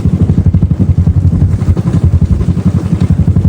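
A motorcycle rides along the Narmada parikrama route in India, with a steady, loud, close engine drone and rhythmic low pulsing that runs through the whole stretch, no talk.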